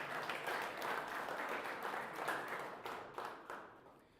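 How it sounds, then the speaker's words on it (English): Sustained applause from a banquet audience at a West Michigan Conference fall sports player of the year awards ceremony, a dense steady wash of many hands clapping that tapers slightly toward the end. "Another round of applause, please, for Maddie."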